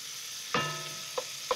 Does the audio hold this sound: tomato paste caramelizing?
yes